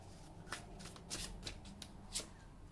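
Tarot cards being shuffled and drawn by hand, quiet papery riffles and flicks in short irregular bursts, close and soft.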